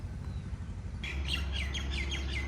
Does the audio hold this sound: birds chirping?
yes